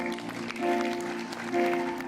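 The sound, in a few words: applause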